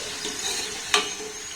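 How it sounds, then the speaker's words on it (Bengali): Pieces of food frying in a pan: a steady hiss of oil runs throughout, with one sharp brighter crackle near the middle, close and fairly loud with no voices. "এগুলোকে আমি খুব সুন্দর করে ভেজে নিয়েছি।"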